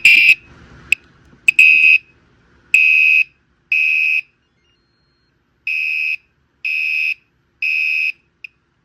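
A Gentex Commander 5 LED horn/strobe fire alarm blares in repeated short bursts, loud and close, with irregular gaps before settling into a steady on-off pattern.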